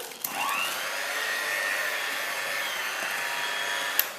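An electric mixer whirs steadily while beating an egg yolk and sugar mixture for a Swiss carrot cake, a close, continuous motor hum starting after a brief bump and ending with a light knock, with no talk.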